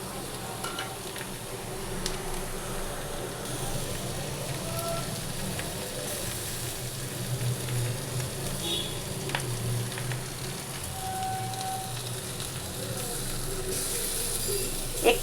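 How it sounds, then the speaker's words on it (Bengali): Ground poppy seed paste frying in a pan with a continuous, fairly even sizzle and light stirring scrapes, a close and steady hiss throughout, ending with a small sharp knock. "পোস্ত পেশা হয়ে গেছে, এটা ঢেলে দিলাম"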